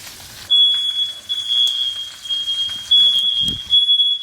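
A smoke alarm goes off while steak is cooked in butter: a sustained high electronic beep runs almost continuously after a short lead-in, with a brief break, over faint kitchen noise and a soft thump.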